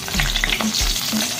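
Two dried red chillies and a bay leaf sputtering in hot oil on a low gas flame as a tempering for a vegetarian pumpkin curry, a close, continuous crackling sizzle with no voices.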